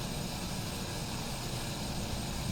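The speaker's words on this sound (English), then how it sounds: "This airplane really wants to fly." A TBM900 turboprop engine in a flight simulator game drones as a dense, steady, even roar in flight, with no voices.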